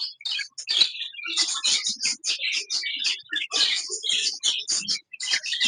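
Fawn Java sparrows, a pair with their chick, give busy high chirps and squeaky calls close by, tumbling over one another in quick bursts with short gaps and no voices.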